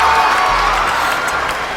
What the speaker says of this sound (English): Want to give us applause for that.